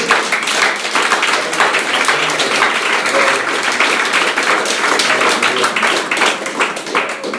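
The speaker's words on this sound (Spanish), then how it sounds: "Dale un aplauso al Señor. Zaploskaj Gospodu." A church congregation claps steadily throughout, dense continuous applause filling the room at a loud, even level with no speech heard over it.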